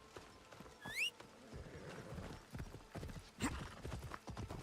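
Horse hooves clip-clop in Assassin's Creed Shadows, with a rising whinny early on and a snort later, all close and clear against a soft ambient background.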